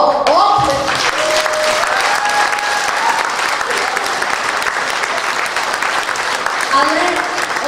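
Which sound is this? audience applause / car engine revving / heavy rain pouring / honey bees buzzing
audience applause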